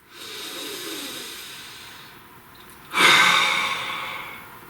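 A slow, deep inhale through the nose, then a longer, louder exhale that gusts out like a sigh. The breath is close and breathy against a quiet room.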